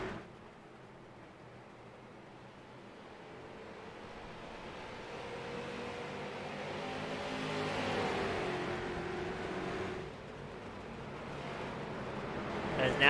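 Stock cars race at North Wilkesboro, their engines a distant roar that swells to a peak and fades, with an announcer talking over the noise throughout.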